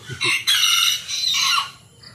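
A Plymouth Barred Rock broodcock crows close by, one loud drawn-out call with a brief cluck before it, on a native chicken farm.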